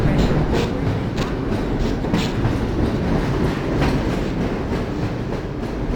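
A train rolls along the track in the Half-Life: Source hazard course, a dense, loud rumble with rhythmic clickety-clack of wheels over rail joints, continuous and without speech.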